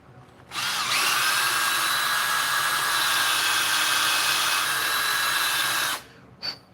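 A power drill with a step drill bit, one sustained high whine of about five seconds, close and loud, starting and stopping abruptly with a short blip after.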